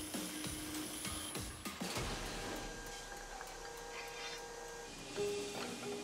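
Automated lathe boring out the center of a metal cylinder in a military manufacturing plant, a steady whirring machine drone with hiss and a few clunks near the start, continuous throughout.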